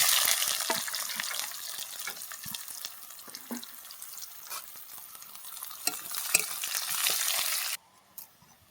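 Onions dropped into hot oil with whole cumin crackle and sizzle steadily while a utensil scrapes and stirs the pan in irregular taps, moderately loud and close, cutting off abruptly near the end.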